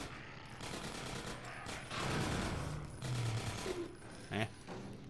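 Gunfire in the Half-Life 2: Episode Two video game, dense rapid shots over a busy game-sound background with mechanical clanks, moderately loud and without talk.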